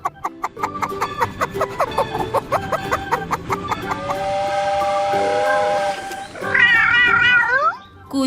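A cartoon cat gives a loud, wavering meow near the end. Before it come a steam train whistle, hiss and a cheerful tune, with no speech.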